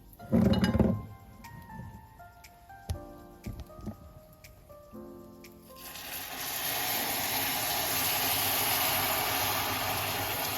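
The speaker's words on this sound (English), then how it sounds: "I'm going to add in my stock slowly" Chicken stock poured slowly into a pan of melted butter, opening with a few sharp clinks of a utensil against cookware, then a loud, steady hissing sizzle that builds and holds to the end.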